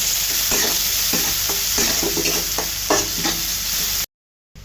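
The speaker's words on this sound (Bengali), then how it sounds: "পেঁয়াজগুলো খুব ভালো করে ভাজা হয়ে গেছে" Onions frying in a pan for a curry, a continuous sizzle broken by repeated scraping strokes of a spatula, close and without voices, ending in a short silence.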